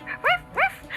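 A person imitates a dog barking during a kids' yoga class, giving two short, rising woof-like yelps close to the microphone.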